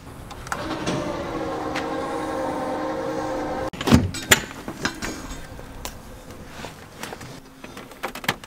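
A power ladder's electric motor whines steadily and fairly loud for several seconds, then cuts off into a series of clunks and knocks as the ladder moves, with no talking.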